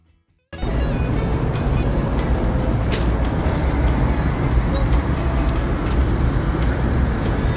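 Steady road traffic rumble heard from inside a moving vehicle in heavy traffic in Rabigh, Saudi Arabia, a continuous loud low drone starting abruptly after a brief silence, with faint higher clicks and squeaks above it.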